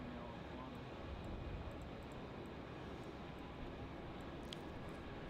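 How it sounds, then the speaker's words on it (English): A Qantas A330 airliner on final approach into Melbourne Airport, its engines a steady, broad distant roar that holds evenly throughout, with no rise or fade. "let's capture the Qantas 330 now on final"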